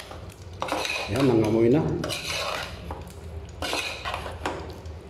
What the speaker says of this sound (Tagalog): Ayan, so haluin natin guys. Haluin natin ng haluin.